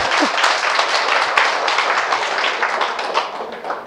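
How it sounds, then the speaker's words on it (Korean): An audience at a seminar bursts into steady, dense applause that holds at full strength for the whole stretch, with no one speaking over it. "여러분 이분을 위해서 박수 한번 쳐주십시오"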